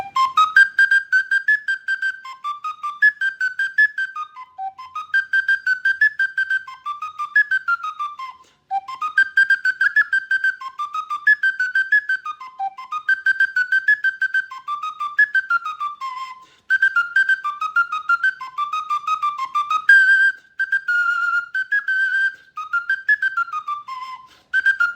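A Sicilian friscaletto, a small folk flute, whistles a bright, quick Tarantella Sicula melody in repeated phrases with short pauses, clear and close, with no other sounds.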